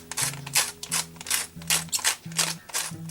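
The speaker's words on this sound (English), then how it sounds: "So we're doing our salt, pink salt that I'm just gonna grind right in." Pink salt ground by hand in a salt grinder over a crock pot chicken soup, making close, rhythmic rasping crunches in about five repeated twisting strokes with short pauses between them.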